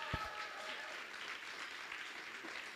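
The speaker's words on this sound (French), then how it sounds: "On l'applaudit, Richard!" An audience applauds as the boss, Richard, arrives at a parade of AGAVS members, a steady crowd clapping that stays fairly even and moderately loud throughout, with a sharp knock near the start.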